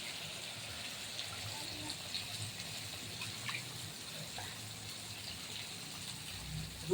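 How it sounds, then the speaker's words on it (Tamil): Tamarind water poured into a pot for a fish curry, a soft, steady liquid trickle and splash that stays faint throughout. "இப்போ நம்ம இதில் புளியை ஊற்றிடலாம்."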